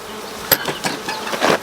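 Africanized honey bees buzzing at the hive entrance after a little smoke, a close, dense buzzing swarm with a few louder passes near the ear.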